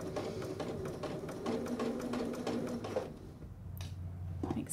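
A sewing machine runs close up while stitching a Hong Kong seam finish, its rapid needle chatter steady for about three seconds before slowing and stopping, followed by quieter handling noises.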